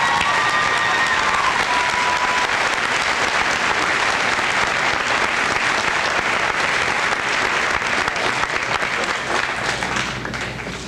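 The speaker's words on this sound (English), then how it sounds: "Let's give these students, as they're coming up here, a round of applause." Sustained applause from a large high school assembly audience, steady and loud throughout, with a few faint whistles near the start.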